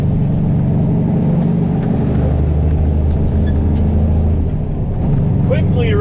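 A semi truck's diesel engine idles with a steady low rumble after starting, its note shifting as a gear is found, with a person talking over it near the end.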